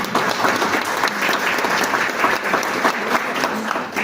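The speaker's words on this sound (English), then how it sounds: "I was expecting you to give a round of applause at that point." An audience bursts into a steady round of applause, dense clapping from a crowd filling the hall at an awards event, loud and continuous with no talking over it.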